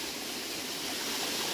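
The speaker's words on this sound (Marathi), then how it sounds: "बघा वॉटरफॉल." A waterfall near a dam during the first monsoon rains at night, a steady broadband rush of falling water filling the whole clip, continuous and fairly close with no voices.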